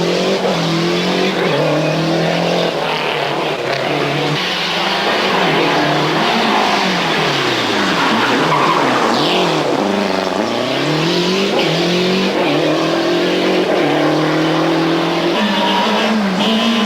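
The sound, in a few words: Skoda kit rally car driving flat out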